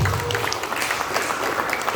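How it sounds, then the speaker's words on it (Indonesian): A crowd at a ceremony for an Indonesian musicians' and songwriters' association applauds, with dense, steady clapping from many hands throughout. "Tepuk tangan dulu buat para pembina PAPRI."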